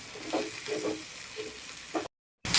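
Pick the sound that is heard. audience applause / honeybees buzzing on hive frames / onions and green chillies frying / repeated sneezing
onions and green chillies frying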